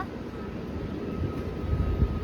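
A Bharat Gaurav train rolls past on the railway near Karignur, a steady low rumble of wheels and carriages, moderately loud and building slightly toward the end, with no talking.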